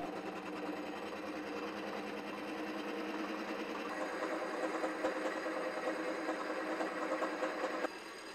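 A milling machine cuts a metal camelback straight edge, making a quiet, steady, fast-ticking mechanical chatter that grows slightly busier before the cut eases off.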